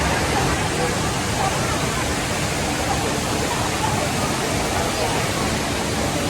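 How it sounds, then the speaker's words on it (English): A large indoor water fountain at Singapore airport roars continuously with dense, loud splashing water, mixed with a faint babble of crowd voices in the background. "This is inside of an airport. It's one of the largest water fountains."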